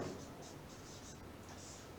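Chalk or marker being written on a board during a Sanskrit grammar lesson, several soft scratchy strokes in a quick uneven rhythm, faint against a quiet background hiss.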